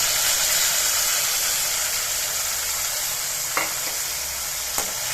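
Tamarind paste stirred into fried peanuts and lentils in a hot pan gives a steady, loud sizzle close by, with two brief scrapes of a spoon against the pan near the end.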